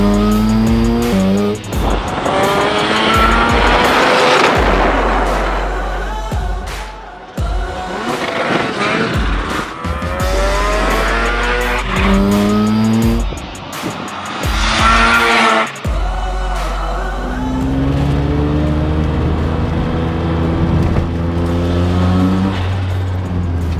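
A Liberty Walk Le Mans-inspired Mazda RX-7 rasps hard through tight park corners, engine note rising and falling with repeated tire squeal and skidding, loud and close, with almost no talking.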